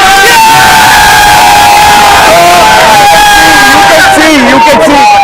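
A large, loud crowd at India Gate on a Sunday night cheers continuously in celebration of India's Champions Trophy win, with whoops and shouted voices forming a dense wall of sound.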